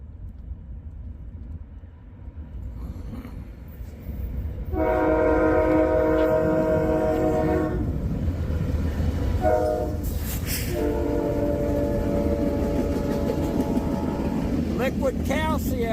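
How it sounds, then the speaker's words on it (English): A westbound freight train passes near a rail line with tank cars, its rumble swelling loud from mid-clip as a long multi-tone horn blows steadily, with a brief burst of noise near the end. "There's that other train that I heard, a westbounder from the 18-mile mark."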